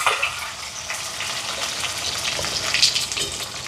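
Onion and curry leaves sauté in hot oil for a curry, a full, steady crackling hiss with faint stirring, close and unbroken, no talk.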